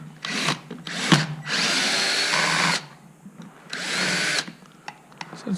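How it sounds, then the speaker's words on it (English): A power drill takes screws out of the back plate of a Zip battery base in short, close whirring bursts, with a longer run in the middle and light clicks and handling noises between them. "So we'll just remove 4 screws out of the back here"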